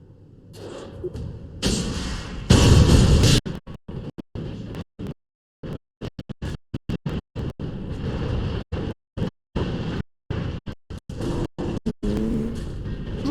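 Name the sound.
explosions in a rocket-building video game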